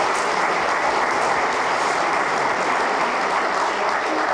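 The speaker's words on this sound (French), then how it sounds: "On peut lui applaudir la réalisation vidéo," Sustained, dense audience applause at a plenary session of a regional conference, a steady wall of clapping at even loudness throughout with no voices.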